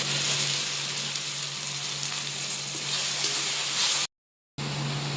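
Ground tomato paste sizzling and frying in a pan with sautéed onions, a steady close hiss with stirring scrapes throughout, broken by a brief gap of silence near the end.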